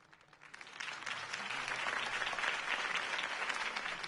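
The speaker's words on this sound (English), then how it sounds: "could have heard that applause" A crowd applauds a campaign speech for Harvey Dent, the clapping swelling after a quiet start into a steady, dense ovation that holds to the end.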